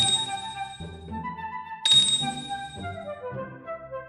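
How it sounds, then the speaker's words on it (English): A storybook bell rings three times, each bright ding standing clear against a soft musical backing, the strikes spaced a couple of seconds apart. "Moro began to ring the bell 3 times"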